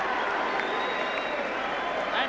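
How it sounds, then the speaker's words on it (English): Stadium crowd giving a standing ovation at a 1984 New Zealand versus Great Britain rugby league test match, steady distant applause and murmuring cheers filling the air beneath a commentator's voice. "And literally a standing ovation from the crowd."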